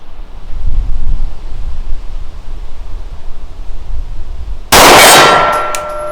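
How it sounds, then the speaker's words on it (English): A bullet from a Rost Martin RM1C pistol firing factory ammunition hits a steel gong at 50 yards on an outdoor range. A single sharp metallic clang rings out over steady wind noise and then slowly decays. "Got the gong again."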